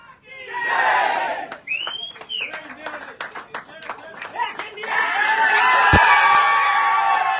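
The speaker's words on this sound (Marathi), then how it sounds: "कोल्हापूरमध्ये स्वप्नीलच्या गावी या विजयानंतर जल्लोष करण्यात आला" Villagers in Kolhapur cheer and shout in jubilation over an Olympic shooting bronze medal, a loud, sustained crowd roar with whoops, scattered claps and a sharp bang near the end.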